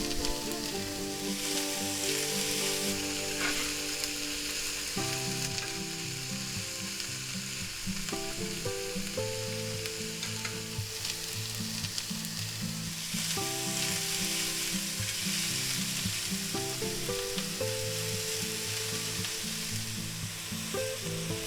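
Chicken fried eggs fry in a pan with a steady, dense sizzle and crackle that runs throughout, close up and without talk.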